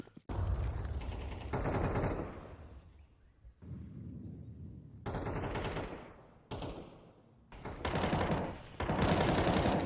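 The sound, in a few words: AK rifle gunfire in the video game Counter-Strike 2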